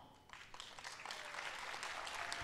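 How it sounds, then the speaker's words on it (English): Applause rising at an awards ceremony after a member's promotion is announced, starting thin and quickly swelling into steady, fairly faint clapping from a crowd that holds at an even level. "Please give a big round of applause."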